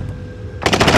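Automatic gunfire in the video game Call of Duty: Modern Warfare erupts suddenly after a quiet moment, firing a rapid, loud burst of shots close by.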